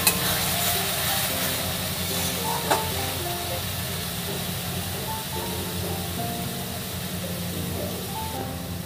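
Kabuli chickpea curry with a green chili sizzles steadily in a pan while being stirred, a continuous close frying hiss with soft scraping and occasional small clinks throughout.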